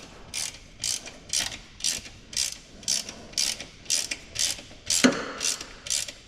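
A hand ratchet works on driveshaft bolts of a 1989 Nissan 300ZX, clicking in about a dozen regular bursts roughly half a second apart, close and clear, with a sharper metallic knock near the end.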